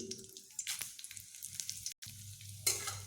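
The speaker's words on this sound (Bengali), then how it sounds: "ফোড়ন একটু এইভাবে কয়েক সেকেন্ড আমি ভেজে নেব" Cumin, a bay leaf and green and dried red chillies sizzle in hot oil for tempering, a steady close frying crackle with soft stirring scrapes and one brief break.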